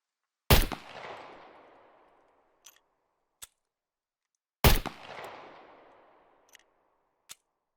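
Two loud single gunshots from a gun in the video game SCUM, several seconds apart, each ringing out with a decaying echo, followed by small mechanical clicks.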